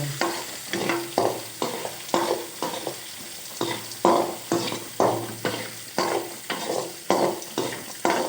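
Onions frying in a pan for a greens stir-fry, a steady sizzle punctuated by regular, rhythmic scrapes and knocks of a spatula stirring about once a second.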